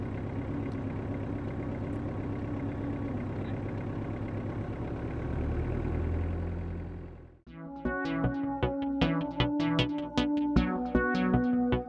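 A car engine idles as a stage sound effect in a comedy play, a steady, rough rumble for about seven seconds that cuts off abruptly before tonal music takes over.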